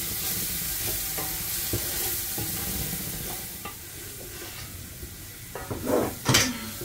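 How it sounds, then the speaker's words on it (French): A cream sauce for salmon with mussels sizzles in a pan while being stirred, with a steady frying hiss, scraping strokes and a few louder clanks of utensil on pan near the end. "Tourne, sinon ça va faire une boule. Tourne, mélange bien."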